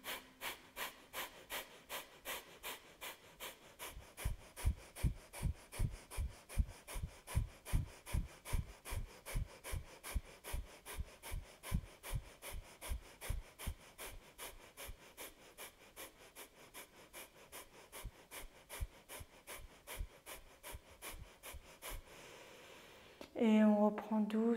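Rapid, forceful exhalations from a breathing exercise, done with the belly pulled in, repeat in a steady, even rhythm of roughly forty sharp puffs. They are close and loud, and a voice speaks briefly at the end.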